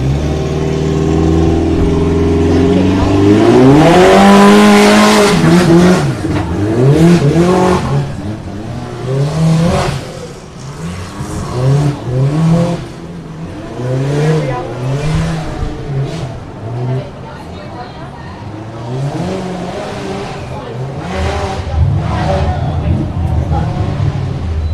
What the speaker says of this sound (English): Sounds like he's in the four-cylinder.